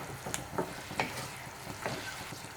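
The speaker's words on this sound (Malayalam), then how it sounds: "ഇനി ഇതിലേക്ക് നമുക്ക് ഫ്രൈ ചെയ്ത് വെച്ച ചെമ്മീൻ ഇട്ട് കൊടുക്കാം. അതിനുശേഷം നന്നായിട്ട് അങ്ങോട്ട് മിക്സ് ചെയ്ത് കൊടുക്കാം" Fried prawns are mixed into a thick pickle gravy in a pan, giving soft wet stirring strokes and a faint sizzle in a short, quiet burst.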